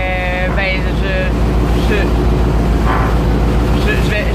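A long-tail boat speeds along a Bangkok canal, its engine droning loud and constant with water splashing and wind buffeting close by, while voices sound briefly over the roar.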